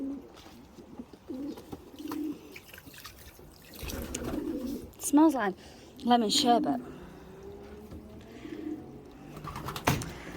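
Pigeons coo softly in a loft housing young and stock birds, a few low rolling calls in short bursts amid light water splashing, with a person talking over them.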